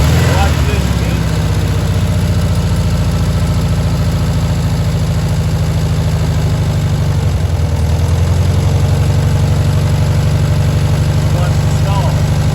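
A VW Beetle engine idles loud and close in a steady low rumble for the whole stretch, its rhythm sagging briefly as if about to stall before picking back up, with no talk over it.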